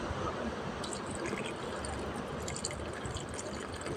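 Steady water pouring and splashing into a baby brine shrimp container, a continuous watery rush with faint drips, close by and fairly quiet, no voices.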